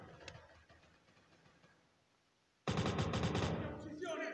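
A loud burst of rapid gunfire in a World War II combat video game erupts partway through after quieter background noise, with repeated sharp shots continuing to the end.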